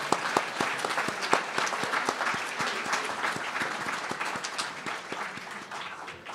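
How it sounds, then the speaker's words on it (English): A room of hospital staff applauds nursing leaders at a leadership development session, a steady, dense wash of many hands clapping with sharp individual claps standing out, sustained at moderate level throughout and fading slightly near the end. "We'll keep clapping"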